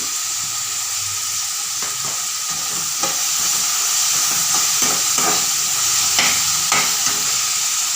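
Two chopped tomatoes and three green chillies sauté in a pan with salt and turmeric, a steady bright sizzle running throughout with scattered scrapes and clicks of stirring, close and fairly loud, no voices.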